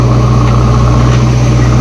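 A tractor engine idles steadily and loudly throughout while a JCB loads it on a rain-damaged road, with a constant low rumble and no pauses.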